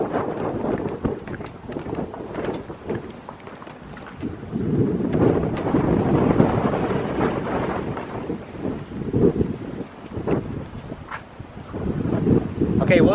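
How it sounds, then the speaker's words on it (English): Strong wind buffets an outdoor microphone near water where someone is fishing, with loud, uneven roaring gusts that swell and ease throughout. "Okay, well, it's really windy."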